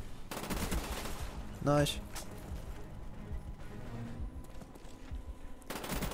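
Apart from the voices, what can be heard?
AK-74U gunfire in Call of Duty Black Ops video game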